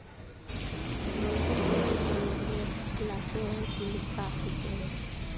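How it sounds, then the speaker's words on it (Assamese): Rain pours down in Golaghat town beside a shop, a steady close hiss that starts abruptly after a brief quiet moment and continues evenly, with people talking underneath. "এয়া বৰষুণ পৰিল"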